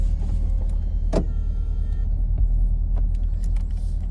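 A 2016 Chevy Camaro 2SS convertible roof operates with a motorized whir over a low cabin rumble, punctuated by several sharp clicks and clunks as the mechanism moves.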